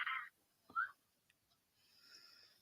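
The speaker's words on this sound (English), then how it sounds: "That's the fox that's making that noise." A couple of short, harsh yelping calls from a fox, fairly close, followed by quieter rustling and a faint high hiss.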